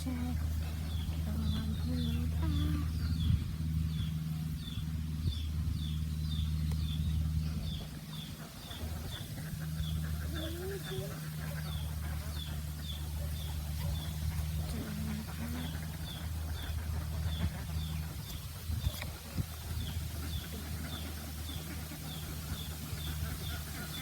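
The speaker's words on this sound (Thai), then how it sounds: "ชมเสียงเป็ดเสียงกาเสียงไก่ไปนะ" Outdoor farmyard ambience with repeated calls of ducks, crows and chickens, clucking and chirps over a steady low hum, with faint voices in the background.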